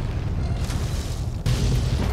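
Explosions rumble all around in the video game Fallout 3, a dense, loud, continuous roar of deep booms that swells again near the end, with no voices.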